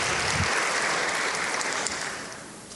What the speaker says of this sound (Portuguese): o deputado estadual Coronel Wellington, uma salva de palmas